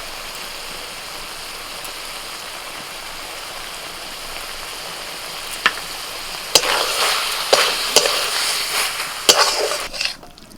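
A village-style dish being stirred as it dries in the pan before raw mustard oil goes in, a soft constant sizzle that swells into louder crackling and several spatula scrapes near the end, with no voices.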